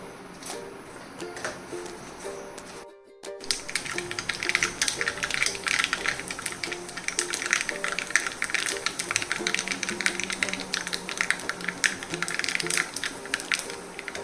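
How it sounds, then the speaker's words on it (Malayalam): Mustard seeds crackle and pop in hot oil for a Kerala pumpkin and ash gourd dish, a dense, rapid stream of sharp little bursts that starts after a brief quieter lead-in and continues loudly to the end. "കടുക് പൊട്ടി"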